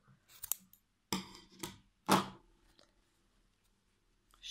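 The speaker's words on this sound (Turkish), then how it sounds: "Bir zincirimi çektikten sonra ipimi buradan kesiyorum." Sharp scissors snip through crochet yarn while finishing a crocheted teapot cover, giving about four crisp, close cuts spaced roughly half a second apart, with quiet gaps and no talking.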